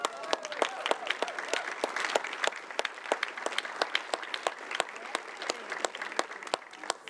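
Applause in a city council chamber, a steady dense patter of many hands clapping with sharp individual claps standing out, moderately close and continuous throughout.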